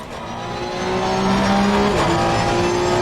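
A Porsche 992 GT3 Cup car engine revs steadily in a racing video game, its powertrain and final drive whining as a rising tonal pitch over a loud, continuous drone.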